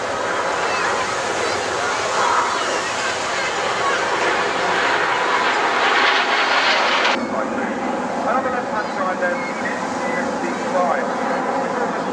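RAF Red Arrows jets roar through an air display at the Bournemouth Air Festival, a loud sustained engine rush that shifts sharply partway through, with a commentator talking over it.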